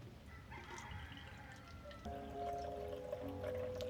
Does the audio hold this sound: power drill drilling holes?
no